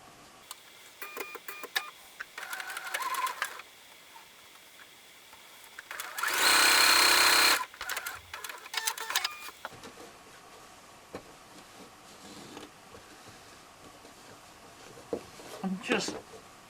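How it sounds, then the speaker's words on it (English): A sewing machine stitches the side onto a quilt block in one short, loud, rapid whirring burst, surrounded by quiet fabric handling noises. "so now we sew the side onto it"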